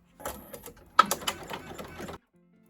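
A home embroidery machine stitches felt held in the hoop, a close burst of rapid mechanical clicking and whirring that runs about two seconds, then stops abruptly into silence.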